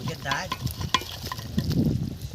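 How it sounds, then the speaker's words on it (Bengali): Freshly caught pond fish going into a boiling curry gravy and being stirred, brief bubbling and utensil scrapes in the pot, close and moderately loud. "ঝোল ফুটে গেছে, মাছ দিয়ে দিচ্ছি।"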